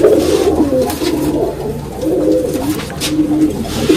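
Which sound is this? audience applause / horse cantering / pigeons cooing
pigeons cooing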